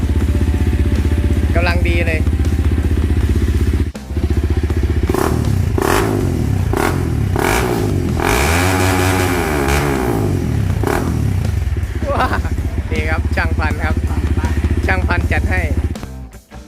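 A Honda CRF300L motorcycle with an Akrapovic exhaust idles loudly with a deep throbbing note, then revs up hard several times, rising and falling, with a voice briefly audible over it.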